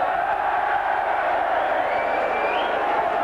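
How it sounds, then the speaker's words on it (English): A rugby league crowd at a St Helens versus Halifax playoff roars for a Saints penalty, a dense, sustained cheer filling the ground. "the Saints public are in raptures"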